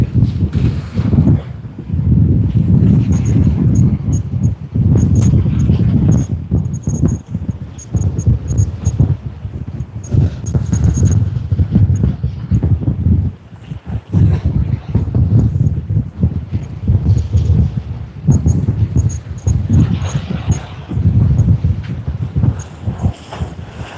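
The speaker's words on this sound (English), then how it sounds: "it got a bit breezy, a bit windy." Strong wind buffets the microphone at Sydney Airport, a loud continuous rumbling roar with gusty surges and brief lulls over about twenty seconds, with no clear voices.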